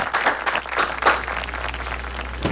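An audience applauds at a Hindi comic poetry gathering (hasya kavi sammelan), a dense, continuous wash of clapping from a crowd for a couple of seconds, heard alone without talk.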